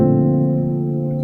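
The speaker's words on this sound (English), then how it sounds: "you can play it as a dominant 7th with a flat 9th" One sustained, ringing chord with a tense, dissonant colour: a dominant seventh with an added flat ninth, held steadily and loudly, with no speech.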